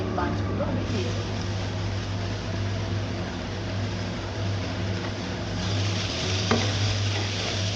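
Small kachki fish frying in a pan with brinjal pieces, a continuous close sizzle with a low steady hum beneath and occasional utensil scrapes as the pan is stirred.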